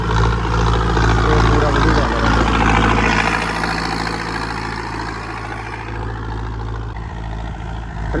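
A John Deere 5310 tractor with a turbocharged JCB engine runs close by, a loud steady low rumble that eases slightly partway through, with a voice talking over it.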